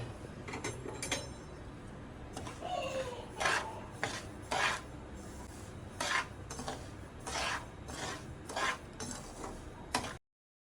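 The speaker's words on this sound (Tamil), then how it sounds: "நம்ம ஒரு பேனை வச்சு ரவாவை வறுத்து எடுத்துக்கலாம்." Semolina being dry-roasted in a pan for kesari, with repeated scraping and clinking of a spoon against the metal, close and fairly steady, in irregular bursts of stirring strokes over about ten seconds.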